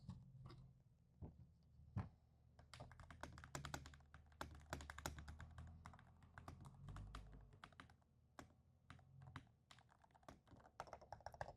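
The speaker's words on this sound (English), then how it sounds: "Oh, these keys are buttery smooth." Someone types on a MonsGeek FUN60 Pro keyboard with magnetic switches. The keys give rapid, irregular clacks and taps in quick bursts, close up and fairly quiet, and no one speaks.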